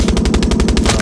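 Rapid, loud bursts of machine gun fire from a tank in the video game Far Cry 6, about a dozen evenly spaced shots in a fast continuous rhythm with no talking.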